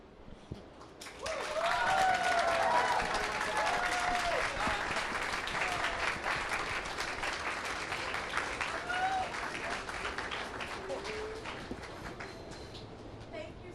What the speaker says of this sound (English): Let's give another round of applause to our artists